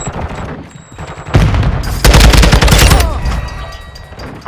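Automatic gunfire rattles loud and close in Call of Duty: Modern Warfare II hardcore multiplayer, sustained bursts crackling over a couple of seconds amid game sounds, with quieter stretches before and after.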